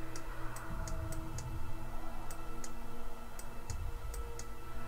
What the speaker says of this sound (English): Just gonna have to keep clicking on everything.